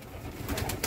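A pigeon at a pigeon market in Malbork gives a brief, soft coo nearby, a low throaty murmur lasting under a second.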